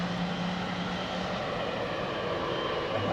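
Aircraft engines at London Heathrow Airport give a steady, broad roar that fills the whole span and stays loud and even throughout.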